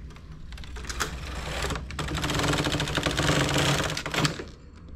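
A domestic knitting machine with a ribber attachment clatters as its handle is turned, giving a dense run of rapid mechanical clicks and rattles that swells and fades over a few seconds, close and with no talk.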